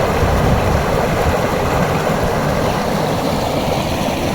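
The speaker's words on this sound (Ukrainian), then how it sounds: "Це тут наш водопадік. Ну Він тут аж шумить гучно." Water rushes continuously over a small waterfall, a loud, steady, close roar with no pauses.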